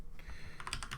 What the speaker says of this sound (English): if I type in ifconfig,